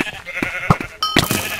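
Sheep bleat in a video game, giving several short, nasal cries in quick succession at close range alongside other game sounds.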